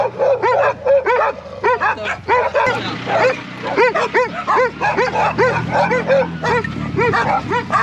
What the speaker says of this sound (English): Military zone, killer guard dogs.